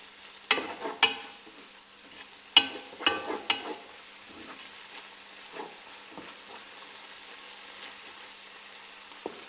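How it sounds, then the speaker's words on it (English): Garlic frying in a pan for spaghetti Bolognese, a soft steady sizzle with several sharper clatters of stirring near the start, then a quieter continuous hiss. "So we'll start off with garlic, put that in. I'm going to let that fry up for 30 seconds to a minute."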